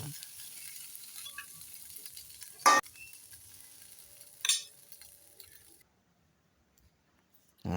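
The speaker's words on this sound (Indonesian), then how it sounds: "Wis tak koseng-koseng. Ben nyampur bumbune." Nasi goreng being stir-fried in a pan, with a steady low sizzle and soft stirring and scraping, plus two brief louder scrapes before the sound drops to near silence.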